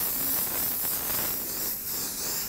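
Airbrush spraying candy2o paint in heavy and light passes, a steady broadband hiss of air and atomized paint held evenly for the whole stretch with no talk.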